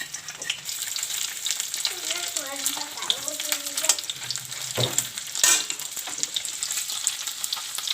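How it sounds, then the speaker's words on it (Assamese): Paneer frying in hot oil in a pan gives a steady, close sizzle with occasional stirring clatter, while a voice talks faintly in the background. "পনীৰটো ফ্ৰাই কৰি ল'ব লাগিব"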